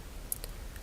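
A single sharp mouse click while working in SolidWorks CAD software, brief and faint against a quiet background.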